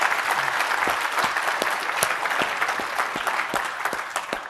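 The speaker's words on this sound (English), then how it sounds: "give it a round of applause" An audience at a developer conference session gives a round of applause, steady dense clapping from a sizeable crowd with scattered sharper claps standing out, holding an even level throughout.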